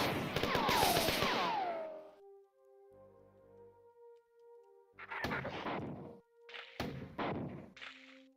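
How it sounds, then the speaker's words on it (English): Grenades fired over and over in the 1994 first-person shooter Marathon, a series of loud, close explosive bursts with short gaps between them and a faint electronic hum in the quieter stretches. "May as well spam grenades,"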